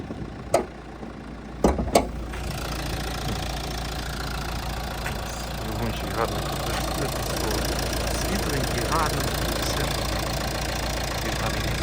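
A 2017 Renault Grand Scenic 1.5 dCi diesel engine idles steadily with a low, even rumble, preceded by a few sharp clunks at the start.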